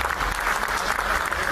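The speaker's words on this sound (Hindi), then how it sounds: "इस बात पे ताली बजा सकते हो भाई" Audience applause at a bodybuilding championship, a dense steady wash of clapping filling the short stretch with no pause.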